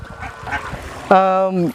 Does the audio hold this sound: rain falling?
no